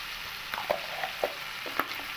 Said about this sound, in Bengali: খুব ভালো করে এবার এই মশলার সঙ্গে ফুলকপিটাকে আমি একটু কষিয়ে নেব